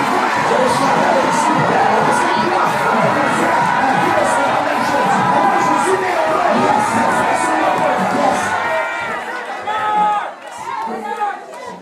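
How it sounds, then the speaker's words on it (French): A church congregation at a Sunday service cheers and acclaims, a dense, loud wash of crowd shouting and excited voices that carries on steadily before thinning near the end. "Acclame Jésus, acclame."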